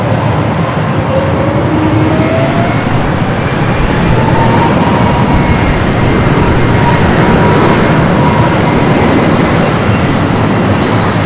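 Jet airliner taking off on the north side of Los Angeles International Airport, a loud, steady broadband roar holding throughout, heard from a distance without voices.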